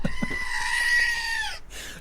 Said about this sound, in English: I'll take the screaming goat over that any day.